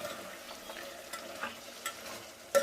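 Chicken for biryani cooking in a pan over a low flame gives a soft, steady sizzle, with a few light stirring scrapes and one sharper clink near the end.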